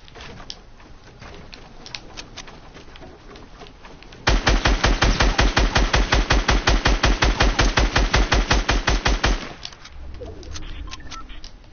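Rapid automatic gunfire in an online shooter video game firefight, a long sustained burst of evenly spaced loud shots lasting about five seconds, preceded and followed by scattered distant shots.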